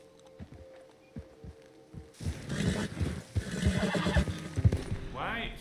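In Red Dead Redemption 2, a horse's hooves clip-clop at a slow walk out in the wilderness, then wind and movement noise swell and the horse gives a close, loud whinny near the end.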